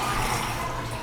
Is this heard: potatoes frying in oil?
no